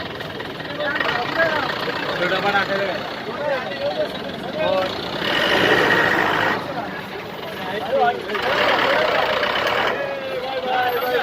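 A vehicle engine rumbles steadily as it pulls away outside a theatre in Nashik, a loud, constant low drone beneath people chatting nearby.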